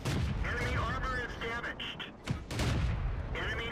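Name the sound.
tank gunfire hitting tank, World of Tanks video game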